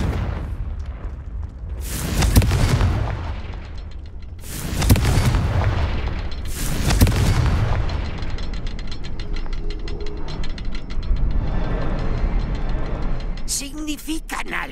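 Three heavy explosive booms from the Confringo blasting spell in Hogwarts Legacy, loud and close, each followed by a rumbling decay, with a voice speaking among them.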